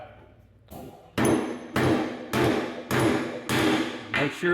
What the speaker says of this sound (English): we slide the other one on, and we hammer it on as well